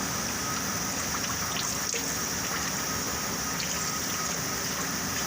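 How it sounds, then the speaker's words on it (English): Transmission fluid flushing through a hose from the CVT of a 2016–2019 Toyota Corolla gives a steady, close hiss of running liquid, constant for the whole stretch with no talking. "flush the fluid until we make sure the transmission coming clean from the top"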